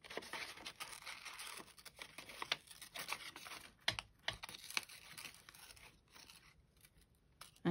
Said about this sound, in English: And all I'm going to do is cut them out. Do a little wavy line.